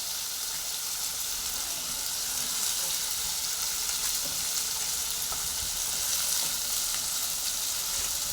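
Tomatoes frying in a pan for khichuri, giving a steady, close sizzle that holds evenly throughout with a few faint stirring scrapes and no talking.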